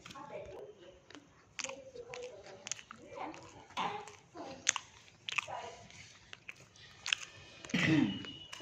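Two people eat bhapa pitha, steamed winter rice cakes, with soft bites and chewing in a quiet indoor space. Short crunchy bursts and mouth sounds come in an irregular rhythm, and a voice briefly cuts in.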